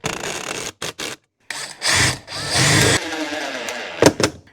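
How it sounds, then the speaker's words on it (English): Power drill boring a small pilot hole into oak: several short bursts of the motor whirring, separated by brief pauses, close and fairly loud, ending in a couple of quick trigger blips. "we're gonna also get a smaller drill bit and drill into the oak too"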